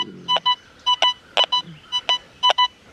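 Target tones from an XP Deus 2 metal detector with an 11x13 coil running a modified 007 program: six pairs of short, clear beeps repeating at a steady rhythm, close and loud, with no talking.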